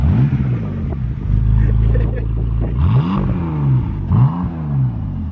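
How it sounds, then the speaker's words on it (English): A BMW E46 car engine revs hard several times, loud and close, with rising and falling sweeps of throttle and some rattling clatter. "Want to give it a rev?"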